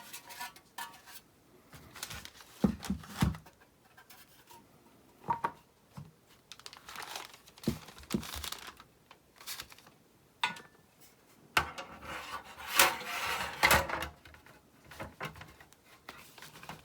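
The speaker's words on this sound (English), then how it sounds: "Next, put your chassis cover back on." Plastic chassis cover of a Synology DS718+ NAS being slid back into place, heard as scattered close clicks, knocks and rattling handling noises separated by quiet gaps, with a denser cluster of clatter near the end.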